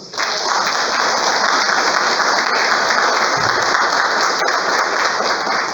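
A church congregation claps steadily in sustained applause, dense and even throughout with no speech over it.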